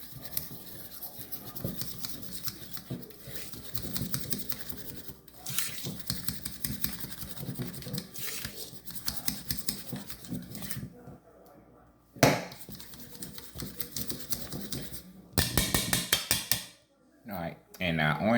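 A utensil beats orange zest into runny icing in a bowl, making quick rhythmic scraping strokes against the bowl, close and fairly loud, with short pauses and a few knocks between bursts of mixing.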